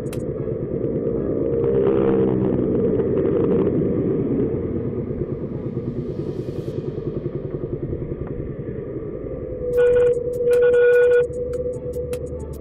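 A motorcycle engine with a 30mm Koso carburetor idles steadily at about 1,200 RPM after idle jet tuning, a continuous low rumble throughout, with a brief higher tone near the end.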